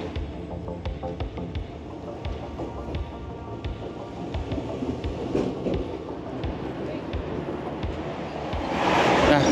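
Metro train ride heard from inside the carriage: a steady, loud rumble with rhythmic clatter of wheels on track joints, swelling louder near the end, with no talking.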